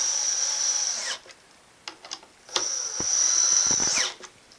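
A power tool driving down the four screws that centre a lazy Susan bearing, two loud whining bursts of about a second each with clicks and clunks between them, close by and alone.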